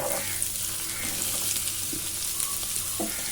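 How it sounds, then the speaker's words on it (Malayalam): Onions and potatoes sauté in a little oil in a pan with a soft, steady sizzle. Faint clicks and stirring scrapes sit over the frying, and the sound is quiet and close with no talk. "നമ്മൾക്ക് ഉള്ളിയും ഉരുളൻകിഴങ്ങും എല്ലാം കൂടെ ഒന്ന് വഴറ്റിയെടുക്കാം ആ പാത്രത്തിൽ തന്നെ"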